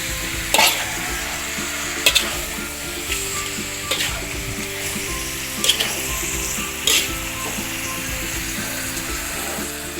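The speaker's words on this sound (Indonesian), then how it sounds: "Kita aduk pelan-pelan teman-teman biar merata daging berserta bumbunya." Beef with spices for Indonesian semur sizzles in a pan while a utensil stirs and scrapes through it, a steady close frying hiss broken by a few sharp clinks and scrapes.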